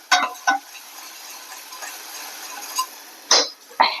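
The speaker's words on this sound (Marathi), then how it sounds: "चांगलं परतून घेते." Home masala and coriander powder are sautéed in a pan for Khandesh-style varan: several short, crisp scraping strokes against the pan, separated by quiet gaps, close and fairly loud.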